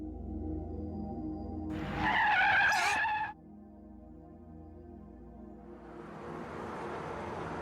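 Car tires skid and screech loudly for about a second and a half, cut off abruptly as a car brakes to a stop in the visual novel Chaos;Child, followed by a quieter noise swelling in the background.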